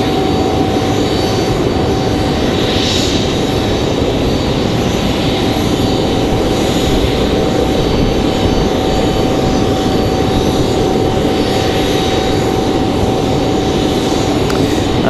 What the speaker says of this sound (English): The Delta, well, that's Endeavor 5150 coming in from JFK, New York.